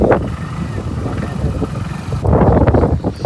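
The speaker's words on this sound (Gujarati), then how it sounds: "જોરદાર પવન આવી રહ્યો" Loud wind buffets the microphone in a continuous roar, gusting harder toward the end, with a low rumble underneath.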